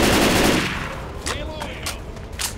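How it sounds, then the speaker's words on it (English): Gunfire crackles in a versus match of Left 4 Dead 2 on The Sacrifice campaign, a loud rapid burst at first, then scattered shots with echoing tails, with some voice chatter mixed in. "stop shooting, we're in front of you"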